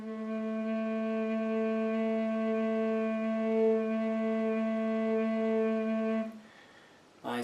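Native American bass flute in A, tuned to 440 Hz, sounds one steady low note played without stomach vibrato, a plain even tone held for about six seconds before it breaks off.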